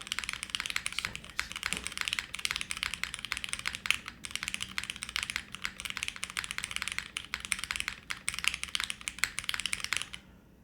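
Fast, continuous typing on an MB-44 mechanical keyboard gives dense, crisp clacky keystrokes in close-up, with brief pauses between bursts and no talking.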